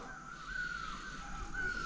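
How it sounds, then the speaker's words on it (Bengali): A crow caws in a green hillside valley, a faint, drawn-out call repeated twice over quiet outdoor background. "প্রচুর পাখি রয়েছে, প্রচুর পাখির ডাক শুনতে পাচ্ছি"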